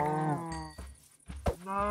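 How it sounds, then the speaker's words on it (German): Cows in Minecraft with a Jurassic mod: two long, loud moos close by, separated by a short quiet gap and a brief thump. "Noch mal so viele Kühe."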